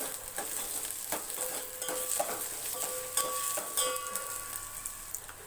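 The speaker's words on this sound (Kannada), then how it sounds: "ಬೆಳ್ಳುಳ್ಳಿ ಈರುಳ್ಳಿ ಒಗ್ಗರಣೆಗೆ ಎಲ್ಲನೂ ಚೆನ್ನಾಗಿ ಫ್ರೈ ಮಾಡ್ಕೋತಾ ಇದ್ದೀನಿ" Close, steady sizzle of garlic and onion frying in oil, with occasional stirring scrapes and light clinks of a spoon on the pan.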